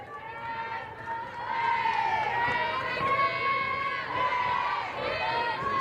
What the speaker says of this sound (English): Love the rhythmic cheering from the dugouts.